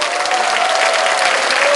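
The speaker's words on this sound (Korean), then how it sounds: "박수 부탁드립니다." A large audience at a public event in Yeoncheon, Korea claps loudly and continuously, a dense, close wash of hands with a faint steady tone running beneath it.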